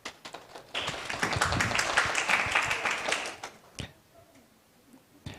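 Applause for seminar speakers at an international medical records and health information seminar, a patter of clapping that swells, holds for a couple of seconds, then thins out into a few scattered claps and near silence.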